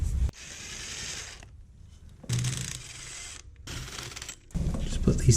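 Ratchet or wrench work refitting 10 mm bolts on a Honda CR-V hub, several stretches of close metallic clicking and whirring separated by short pauses.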